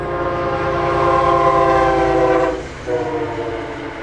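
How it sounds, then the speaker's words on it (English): A train rumbles past nearby with a loud, sustained horn blast that cuts off briefly and resumes, over a low rolling rumble. "the train's going by"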